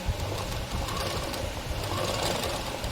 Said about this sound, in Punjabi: ਜੇਕਰ ਆਪਾਂ ਸਲਾਈ ਮਸ਼ੀਨ ਨਾਲ ਕਢਾਈ ਕਰਨੀ ਹੋਵੇ